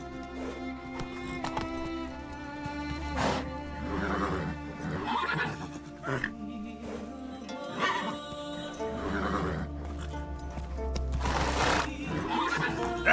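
In The Witcher 3, Geralt's horse Roach gives several loud whinnies and neighs over hoof clip-clops as it trots, with a steady game soundtrack drone running underneath.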